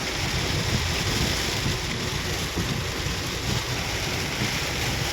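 Heavy floodwater rushes in a constant, broad wash of noise during a storm in Palawan, loud and unbroken throughout with no voices.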